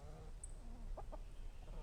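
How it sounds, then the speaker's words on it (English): Startled chickens give a couple of quick, faint clucks over a low, noisy background, two short calls close together near the middle. "The scare always scares the crap out of the chickens when I do that."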